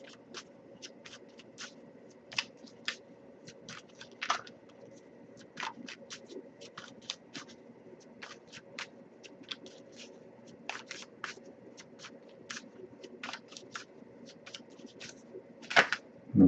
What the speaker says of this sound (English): if I shuffle for a while and nothing comes up, I'll just move on to the next Oracle deck